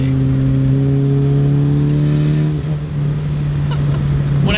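A tuned 400-horsepower Ford Focus ST accelerates hard out of a corner, its engine droning loud and close with a steady rising pitch, a brief dip mid-pull, then resuming the strong pull.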